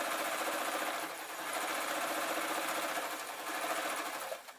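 A sewing machine runs continuously, stitching a seam along the top of a jelly roll quilt, a loud steady mechanical whir that slows briefly and stops at the end.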